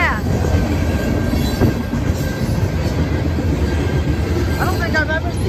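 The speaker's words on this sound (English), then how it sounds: "I don't think I've ever seen a train go that fast." A fast train roars past close by, loud and sustained, its wheels rumbling with brief metallic squeals near the start and end; faint voices may sit under the noise.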